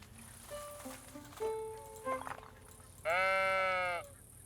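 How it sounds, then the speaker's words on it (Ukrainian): A sheep bleats once, loud and drawn out, in the video game Tiny Glade, after a few soft chime-like game tones against a quiet background. "Я знав, що тут можна овечку гладити."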